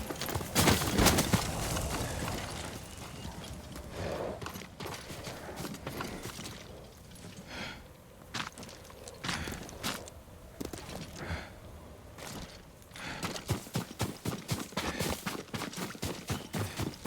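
Horse hooves clip-clop on hard ground in the video game Ghost of Tsushima, irregular at first, then settling into a quicker, steady rhythm toward the end.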